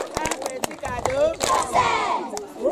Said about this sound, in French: Applaudissons encore pour Perian.